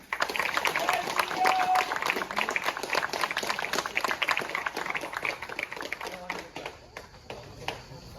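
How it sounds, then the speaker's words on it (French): A crowd applauds at a tournament, honoring player Julien: steady, dense clapping sustained for about seven seconds before thinning out, with voices talking underneath. "Je tiens à qu'on fasse un tonnerre d'applaudissements pour Julien aussi"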